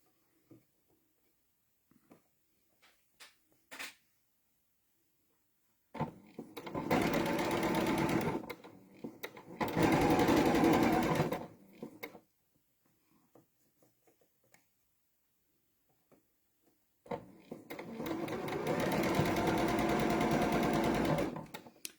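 A sewing machine stitching log cabin quilt blocks in three steady, close bursts of rapid whirring, separated by quiet pauses with faint handling clicks.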